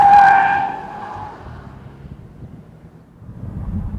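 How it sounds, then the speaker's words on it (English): A 2013 Audi S8 brakes hard from 60 mph, tires skidding with a loud squeal at the start that fades over about a second into low rumbling road and wind noise, with no talking. "And now for our 60 to 0 braking test."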